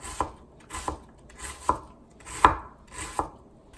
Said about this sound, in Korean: 이렇게 한 면을 곱게 썰은 다음에 중간에 칼집을 한 번, 두 번 이렇게 내세요